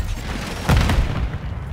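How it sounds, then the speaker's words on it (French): A grenade explodes in the Call of Duty Modern Warfare 3 video game, a single muffled boom with a low rumbling tail, fairly close and alone without talk. "Je lance une grenade."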